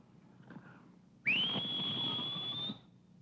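A single clear, sustained whistle rises quickly and holds a steady high pitch for about a second and a half before stopping, with quiet background beforehand.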